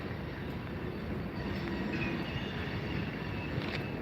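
Distant train rolling along a railway in Havre, Montana, a steady low rumble with faint wheel squeal, heard alone without talk.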